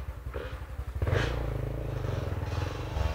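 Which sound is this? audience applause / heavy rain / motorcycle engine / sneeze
motorcycle engine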